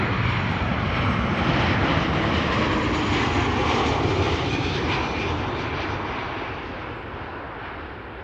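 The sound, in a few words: KLM Boeing 737-800 arriving from Milan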